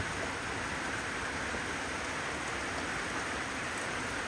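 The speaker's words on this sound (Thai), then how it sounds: "ฝนตกมาเรื่อยๆ" Steady rain falls without pause, a dense even hiss of drops with no voices over it.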